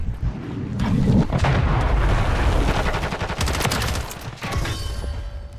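Dense, rapid gunfire from Call of Duty: Modern Warfare 3 multiplayer, loud and continuous bursts with booming shots stacked together, easing briefly before resuming near the end.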